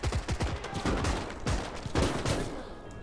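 Dense battlefield gunfire from the WWII game Call to Arms - Gates of Hell: Ostfront, with rapid overlapping rifle and machine-gun shots cracking continuously throughout, loud and close, no talking.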